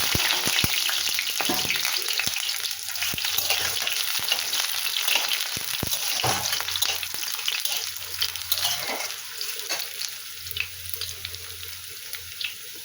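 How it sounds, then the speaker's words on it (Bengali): Potatoes and whole cumin seeds frying in hot oil in a wok, a loud, steady crackling sizzle throughout with scattered sharp pops and clicks of stirring. "কড়ার তেল গরম হয়ে গেছে, একটু গোটা জিরে দিয়ে দিলাম আর আলু দিয়ে দিলাম"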